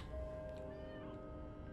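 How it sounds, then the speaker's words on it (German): A cat in the horror game The Baby in Yellow gives a faint, drawn-out meow against a quiet ambient background, heard alone without talk. "Da ist die Katze nach oben gelaufen."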